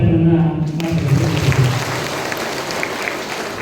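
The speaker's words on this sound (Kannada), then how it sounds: "ಮಡಿವಾಳ ಬಂಧುಗಳಿಗಾಗಿ 2 ಜೋರಾದ ಚಪ್ಪಾಳೆಗಳನ್ನು ಮಾಡ್ತಾರೆ" At a community stage event in Magadi, Ramanagara, a crowd bursts into loud, sustained applause right after a brief spoken line, the clapping continuing dense and steady to the end.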